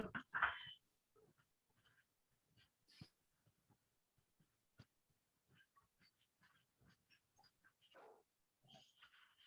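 A dog barks indoors near a resin crafting workspace: one loud, close burst at the start, followed by sparse faint yips, whimpers and breathing sounds scattered through otherwise quiet room tone.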